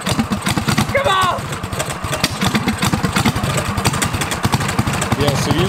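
A 420cc lifted go-kart engine runs on choke with a steady, rough low-pitched chug that fills the whole stretch, loud and close, while voices call out over it.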